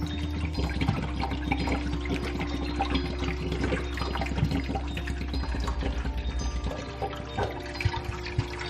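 Water splashes and trickles steadily as it is poured, with a low constant hum underneath and no talking.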